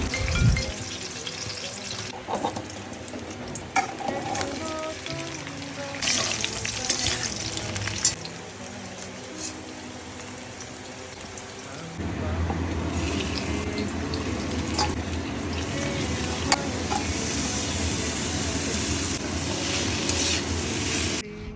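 Vegetables fry in hot oil in a pan for labra, a Bengali mixed-vegetable dish made for a Janmashtami offering, with a steady close sizzle, occasional stirring clatter and a louder, fuller crackle in the second half, with no talk.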